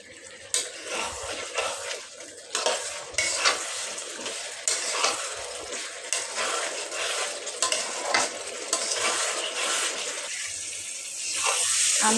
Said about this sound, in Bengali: আমি ভালোভাবে কষিয়ে নিলাম।